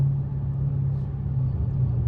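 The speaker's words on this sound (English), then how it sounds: "I know y'all heard it like it spun, but when this thing grab traction," A Dodge Hellcat accelerating on a night street gives a deep, steady engine rumble heard from inside the car, loud and continuous with no speech.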